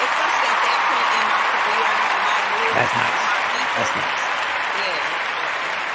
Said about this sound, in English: Let me give a round of applause for that.